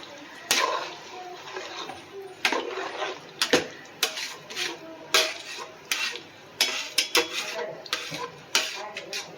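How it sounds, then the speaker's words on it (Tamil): Paneer pulao with coconut milk being stirred in a pot, spoon scraping and clinking against the metal in irregular bursts with short pauses between, then the lid set on; near and moderately loud, no talk. "இப்போ நம்ம நல்லா கலந்து விட்டு மூடி வச்சிடலாம்"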